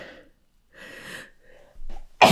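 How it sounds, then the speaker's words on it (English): A single sharp sneeze bursts out loud and close at the very end, after a moment of quiet breathing and a faint catch of breath, with no talking heard. "Oh my god, I need to sneeze."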